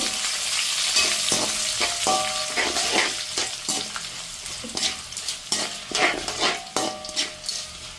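Dried chillies fry in hot oil while tamarind rice is being cooked. There is a steady crackling sizzle, and a spoon scrapes and taps against the pan at an irregular pace, with no voices.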